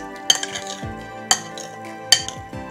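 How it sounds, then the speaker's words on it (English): Utensil scraping and clinking against a bowl while tuna chickpea salad with salt and olive oil is mixed, three sharp clinks at roughly one-second intervals over a soft stirring rustle, close and alone. "Just mix really well."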